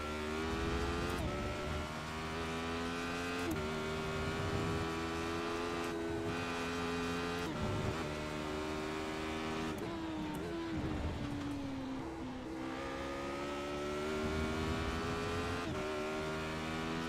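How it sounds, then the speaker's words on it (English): A race car in a sim racing game at a Road America round of a Radical championship, the engine droning and revving up through gears with repeated shifts, fairly quiet and continuous with no talk. "I can't make the car any louder."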